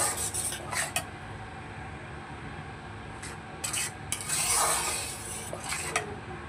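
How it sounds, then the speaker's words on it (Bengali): Spices with salt and turmeric powder are sautéed in a pan, a soft sizzle under scraping strokes of a spoon stirring and rubbing the mixture, in short bursts. "এবার এগুলো দিয়ে ভালো করে একটু কষিয়ে নেব। সমস্ত মশলাটাকে ভালো করে কষিয়ে নেব।"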